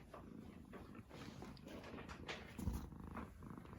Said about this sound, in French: Je sais pas si vous entendez le super ronron de Grisou.